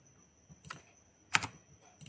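A few scattered keystrokes tap on a computer keyboard as a wrong password is entered on a login page, three quiet clicks with one sharper press in the middle, close and alone.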